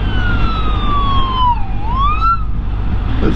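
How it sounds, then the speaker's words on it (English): A police car siren wails in long, descending and rising sweeps, loud and close, over a low steady rumble. "It's the police."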